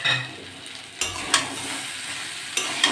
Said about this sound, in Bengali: ভালো করে এটা কষে নেব।